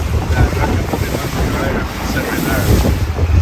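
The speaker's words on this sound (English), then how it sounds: "These waves are huge." Large river waves slapping against a long-tail boat on the Chao Phraya River in Bangkok, with steady rushing water, engine drone and wind buffeting the microphone throughout.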